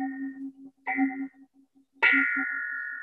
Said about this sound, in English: Let those temple bells float.